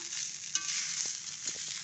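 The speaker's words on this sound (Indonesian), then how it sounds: "setelah kita aduk kita goreng beberapa saat" Green fried rice with petai frying in a pan, a steady close hissing sizzle with light scrapes and taps of a spatula stirring the rice, no voices.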